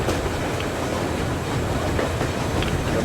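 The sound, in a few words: train ride in video game Metro Exodus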